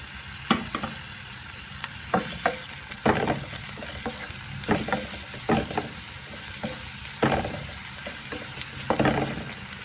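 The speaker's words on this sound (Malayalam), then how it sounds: "നന്നായി വഴറ്റിയെടുക്കാം. ഇനി ഇഞ്ചി വെളുത്തുള്ളി ചേർത്ത് കൊടുക്കാം." Ginger and garlic sauté in a hot pan for an egg puff filling, giving a steady close sizzle with a spoon or spatula scraping and clicking against the pan at irregular moments, and no talking.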